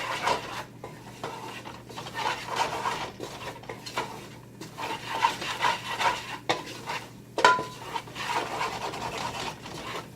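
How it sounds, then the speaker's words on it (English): A spoon stirs a flour roux in a pot for a potato, shrimp and bacon chowder, giving a steady close scraping and rubbing sound with soft rhythmic strokes and a faint background hum. "I'm gonna stir it all up"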